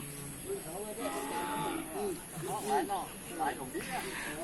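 Young cattle lowing at a northern Thai livestock market, with several moderate moos and calls rising over a steady crowd murmur and background voices.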